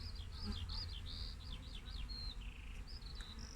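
A steady, low hum of many honeybees buzzing close by at the hive, with thin bird chirps above it.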